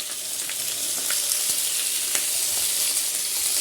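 Ivy gourd pieces fry in hot oil, a dense, even crackle and sizzle throughout with small pops scattered across it, close and fairly loud with no voices.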